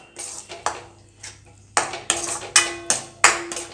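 Spoon scraping and knocking against a pot while stirring cardamom powder into black kavuni rice sweet pongal: a series of sharp metallic clinks and scrapes, close and fairly loud, in irregular bursts with no talking.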